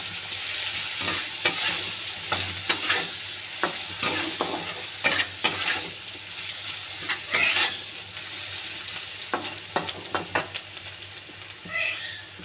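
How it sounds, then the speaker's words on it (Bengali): Onions sizzling in hot oil with salt as a spatula stirs and scrapes the pan in repeated sharp strokes, close and fairly quiet, with a soft steady fry underneath. "হালকা একটু নুন দেবো, বাদামি বাদামি করে ভেজে নেব"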